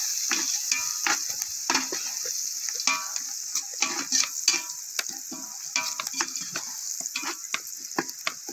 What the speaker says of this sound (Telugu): బిర్యానాకు ఆనియన్స్ వేసిన, 2-3 పచ్చిమిర్చి కూడా వేసిన